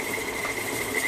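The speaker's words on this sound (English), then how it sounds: "You can take a dishcloth, wrap it around like so, and then turn your mixer." A stand mixer churns chocolate chip cookie dough on low speed, with a dishcloth wrapped around the bowl. It gives a steady, fairly loud motor whir and mechanical hum that runs unbroken from start to finish.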